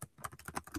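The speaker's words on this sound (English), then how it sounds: "So let me type in here." Brief, faint tapping of keys on a computer keyboard, a handful of quick soft clicks.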